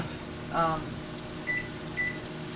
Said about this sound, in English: So while my potatoes are in the microwave,